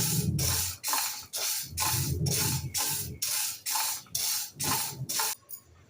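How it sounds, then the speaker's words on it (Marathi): Green moong beans are dry roasted in a pan and stirred in repeated bursts, giving a rhythmic rushing, rattling hiss roughly every half second, close and loud, with no talking. "हे मूग आपण व्यवस्थित वास सुटेपर्यंत भाजून घेऊया."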